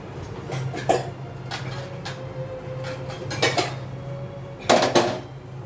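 Leftover rotis are cut into pieces in a home kitchen, with scattered knocks, clinks and scrapes of a knife and utensils against a plate over a low steady hum, the loudest clatters near the end.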